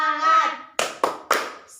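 A primary-school class in a Grade 5 lesson does the 'tepuk semangat' clap chant: a chanted voice line followed by three sharp, evenly spaced hand claps, close and loud.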